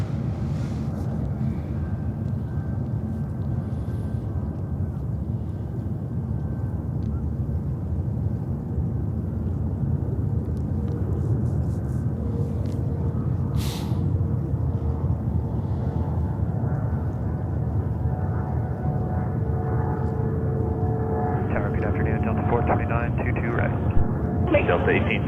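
A Delta Airbus A330-900 airliner arriving at JFK airport gives a steady low jet roar that slowly grows louder, with tonal engine whines coming in near the end, under wind noise.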